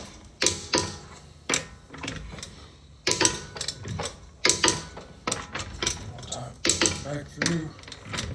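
A wrench works wheel lug nuts during tire service, giving bursts of sharp mechanical clattering and ratcheting that recur every second or so, fairly close, with quieter shop noise between.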